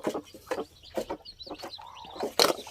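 A mother hen clucking softly while feeding her chicks, short low clucks repeated close by, with faint high cheeps from the chicks.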